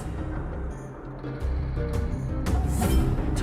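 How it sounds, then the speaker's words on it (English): A Fragmentum monster in the video game Honkai: Star Rail gives off a harsh, staticky, white-noise-like drone, rumbling and grinding continuously and growing louder toward the end, with no talk over it. "That noise! Do Fragmentum monsters usually sound like this?"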